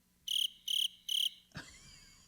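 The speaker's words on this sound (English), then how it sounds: "there's silence, like crickets" Crickets chirp in three evenly spaced, bright bursts against a quiet background, followed by a single soft thud.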